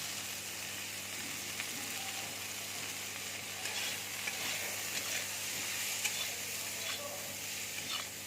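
Salt and turmeric fry in a pan for an egg curry. A soft, continuous sizzle is joined by light, intermittent stirring and scraping, heard alone at fairly low volume.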